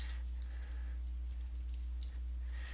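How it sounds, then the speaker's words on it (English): Soft, rapid keystrokes on a computer keyboard while PHP code is typed, quiet taps in an irregular run over a steady low electrical hum. "this is PHP I'm typing right here"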